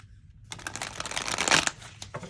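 Threads of Fate Weaver tarot cards riffle-shuffled up close, a dense fluttering burst of flicking cards for about a second, then a soft tap as the deck settles.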